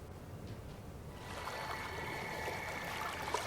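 A steady rush of flowing water, a sound effect in the card game Gwent, rises in after a second and continues as a soft, even stream through the rest.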